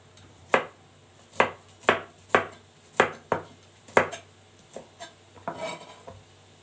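Garlic being chopped with a knife on a cutting board, about a dozen crisp, evenly spaced chops close up, slowing and softening toward the end.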